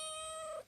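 A single short cat meow, clear tonal and close, tapering off at the end, with no talk over it.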